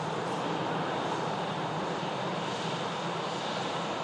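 A steady broadband roar from the engines of a worn, older Ryanair passenger jet, loud and continuous without variation and with no voices.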